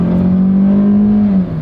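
A Toyota Celica engine revs hard under acceleration, one loud, sustained near-field pull whose pitch climbs steadily before easing off at the end, with no voices over it.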